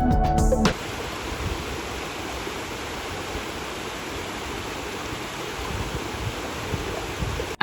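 Falling water roars in a continuous, even rush at a Scottish waterfall, a steady broadband wash that holds unchanged after a brief opening burst of other sound.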